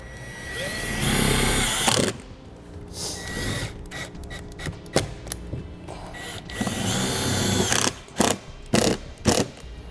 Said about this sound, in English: we're ready to start putting on our screws